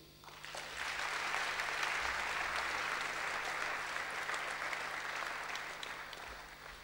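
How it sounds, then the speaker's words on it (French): An audience at a national men's church convention applauds the pastors, a dense, steady wash of clapping from many hands that swells quickly, holds, and then slowly tapers off. "j'aimerais bien que nous puissions les applaudir"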